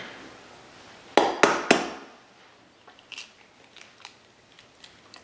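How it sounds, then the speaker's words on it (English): Eggshells being knocked hard against a surface: three loud, sharp cracks in quick succession, followed by fainter scattered taps and clicks of shell alone. "These eggs are way harder to open."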